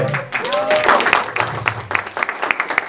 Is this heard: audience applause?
yes